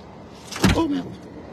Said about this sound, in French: Le portail s'ouvre.